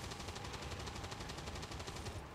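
Rapid automatic gunfire from the XCOM 2 tactical video game, a dense, steady burst of repeated shots filling the whole stretch at moderate loudness, with no talking over it.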